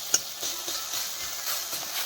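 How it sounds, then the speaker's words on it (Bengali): Whole fish broken into pieces fry in a pan with a soft, steady sizzle and light crackle, plus a few faint clicks from stirring. "আমার মাছ প্রায় ভাজাই হয়ে এসেছে"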